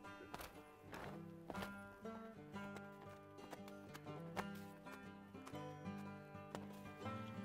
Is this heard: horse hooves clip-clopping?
yes